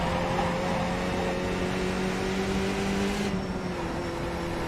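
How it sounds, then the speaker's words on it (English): Race car engines from the iRacing game at Oran Park drone steadily at high revs, a dense continuous roar with cars running side by side and no talk. "There's already a car beside me."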